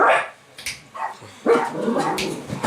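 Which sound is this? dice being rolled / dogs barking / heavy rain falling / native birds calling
dogs barking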